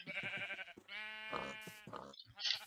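Sheep in the video game Minecraft bleat in a few short, close, moderately loud calls with brief pauses between them and no talking.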